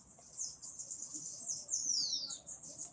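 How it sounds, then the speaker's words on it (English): Birds chirp and sing in the distance, with a steady run of high, thin calls and a few sweeping whistles over a quiet outdoor background hum. "I'm listening to birds right now."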